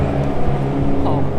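Classic car engines roar at the RaceRetro show, a loud, dense rumble of several motors heard close by, with people talking over the noise.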